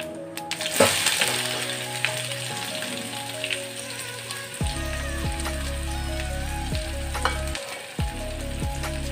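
Onion and cumin seeds sizzle in hot oil for a bhindi peanut masala, a close, steady frying crackle with stirring scrapes and a sharp burst near the start.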